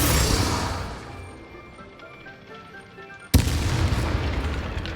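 A barrel blows up in Hogwarts Legacy with a sudden loud boom partway through, after a quieter stretch of game ambience and rumble.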